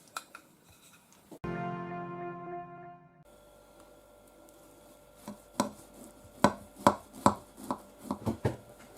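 A knife chops through hot stuffed flatbreads cooked in a skillet, a run of sharp, irregular cuts on a board that grow louder and quicker toward the end, after a short stretch of clattering.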